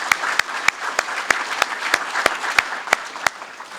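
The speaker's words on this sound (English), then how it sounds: "So let's give them a round of applause." Sparse round of applause from a small audience at a city annual update event, with about a dozen distinct, evenly spaced claps standing out over a soft background of scattered clapping throughout.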